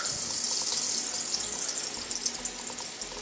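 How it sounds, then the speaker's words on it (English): Cold water running from a tap over an iPhone 6 in a Lifeproof case, a steady close hiss and splash that eases slightly toward the end, with no talking. "we're going to just cover it in a little bit of water"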